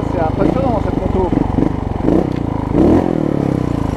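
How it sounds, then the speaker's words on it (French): A Montesa 300RR trial motorcycle engine runs close up with a rough, throbbing putter and short rises in revs, while someone talks over it. "Ah, c'est impressionnant, cette moto."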